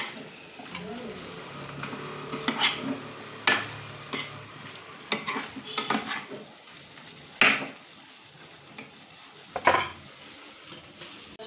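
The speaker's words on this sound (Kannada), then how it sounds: "ಶುಂಠಿ ಬೆಳ್ಳುಳ್ಳಿ ಪೇಸ್ಟ್ ಹಾಕಿದ್ದೀವಲ್ವ, ಅದಕ್ಕೆ ಹಸೆ ವಾಸನೆ ಹೋಗೋವರೆಗೂ ಒಂದು ಸ್ವಲ್ಪ ಹುರ್ಕೊಳ್ಬೇಕು." Ginger garlic paste fries in a pan for a chicken liver fry, with a soft sizzle beneath repeated sharp clinks and scrapes of a spoon stirring against the metal.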